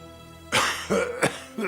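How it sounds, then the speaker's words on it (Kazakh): Three short, sharp coughs in an animated Kazakh cartoon, each a close, loud burst separated by brief pauses, with a fourth starting at the end. "Ой, кім жөтелді?"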